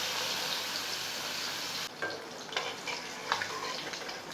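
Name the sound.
fish pieces frying in hot oil in a wok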